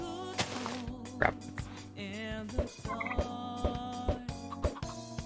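Several short turkey gobbles from a Minecraft farm ring out in quick succession. They play over looping game music, are fairly close, and no one talks.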